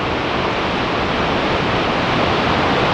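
Steady roar of falling water at Shoshone Falls pouring over a basalt gorge, a dense, continuous rushing wash heard up close with no pauses and no voices.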